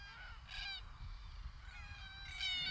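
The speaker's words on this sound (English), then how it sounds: "hearing the sound of hundreds of cockatoos living wild and free in their native Australia" A large flock of wild cockatoos in their native Australia calls out in harsh, repeated cries, with two louder bursts standing out over a steady low rumble of background noise.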